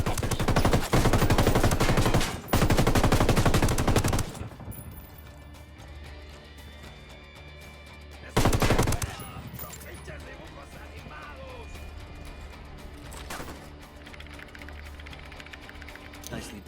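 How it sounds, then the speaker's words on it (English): Sustained bursts of automatic gunfire in a video game shootout against cartel enemies, loud rapid volleys in the opening seconds and again midway, with quieter scattered shots and game noise in between. "Opening fire at these fuckers."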